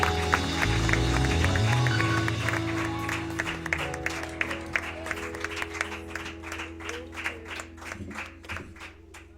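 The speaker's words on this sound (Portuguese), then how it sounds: "Aplauda Ele o mais forte que você puder" A church congregation claps during worship, dense applause over sustained music that thins into distinct rhythmic claps toward the end.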